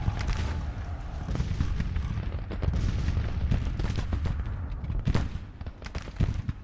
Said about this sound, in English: the artillery actually drove off one of my brigades